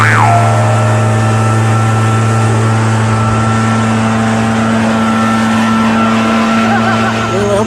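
An Echo PB250LN two-stroke handheld gas leaf blower runs loud and steady at close range, a continuous high buzzing drone throughout.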